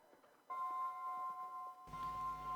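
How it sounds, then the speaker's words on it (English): Electronic bell at an international show jumping competition in Mullingar, a sustained two-tone chime rung over arena background noise to signal the next competitor, fairly clear and moderately loud. "The bell has went for our next competitor."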